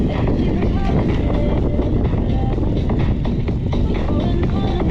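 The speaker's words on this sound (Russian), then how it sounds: "Ветрено, прохладненько." Wind blows on the Crimean coast in a steady, loud rush buffeting the microphone, with the hum of a moving vehicle underneath and no clear speech.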